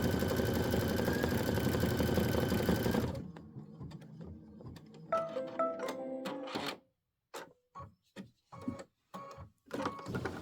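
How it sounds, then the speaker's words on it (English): An Aveneer embroidery machine stitches out a chimney design from OESD's Boo Manor tiles in a 6x10 hoop. A rapid, steady stitching clatter runs for a few seconds, stops, and is followed by scattered sharp clicks and taps. "After you stitch out the chimney"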